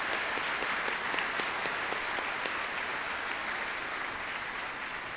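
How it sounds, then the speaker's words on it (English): Steady, dense applause from a graduation ceremony audience, sustained at an even level for several seconds with no talk over it. "Please applaud for them all."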